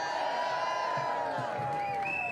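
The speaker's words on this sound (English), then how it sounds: "Another round of applause for Evan, please." A crowd at an outdoor protest outside the U.S. Capitol claps and cheers faintly and continuously in the open air, with a sustained tone ringing over the diffuse noise.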